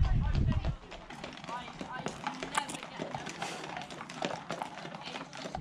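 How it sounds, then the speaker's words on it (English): Horses pass by on a countryside walking trail, their hooves clip-clopping in a steady rhythm at close to middle distance, with a voice speaking at the start. "And here come some horses."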